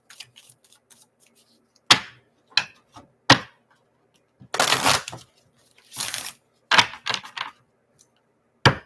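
Tarot cards shuffled by hand, heard as scattered crisp taps and clicks followed by two longer papery riffling bursts, close and fairly quiet with no talking.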